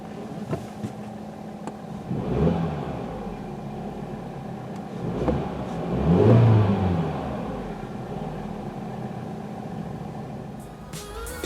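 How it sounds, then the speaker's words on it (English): A 2012 BMW F20 1 Series 116i five-door starts up, then its engine revs in two or three swelling bursts over a steady idle rumble, close by with no talk. "Let's start up the car."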